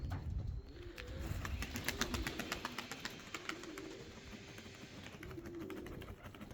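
Pigeons in a dovecote coo in low, repeated murmurs over a busy background of clicks and flutter. The sound is close and moderately faint and continues throughout.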